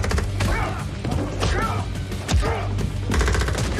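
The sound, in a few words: machine gun fire in a video game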